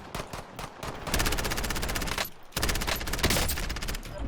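Rapid automatic gunfire in Call of Duty Warzone, dense loud bursts of rattling shots in quick succession with a brief gap partway, then another sustained burst, no talking.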